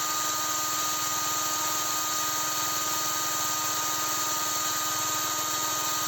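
A SHARKPRO ARCTIC 190 cordless screwdriver running at second speed makes a steady, continuous motor whine close by, unchanging throughout with no voices.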